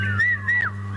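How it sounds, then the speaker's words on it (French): A single rising and falling whistle, clear and close, cuts in briefly over a low steady hum, standing in for an audience whistling. "Les sifflets, les sifflements,"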